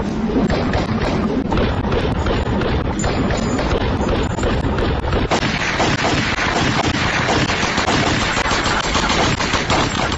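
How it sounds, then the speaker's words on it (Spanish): Sustained submachine gun fire, over 800 rounds per minute, a dense, loud stream of rapid shots blurring into a continuous roar over wind buffeting the microphone. "Las armas podían hacer más de 800 disparos por minuto."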